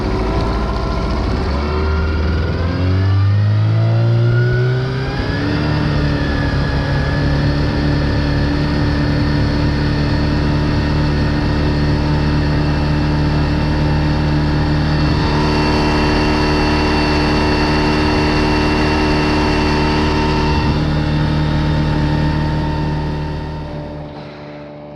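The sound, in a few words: Suzuki outboard boat motor running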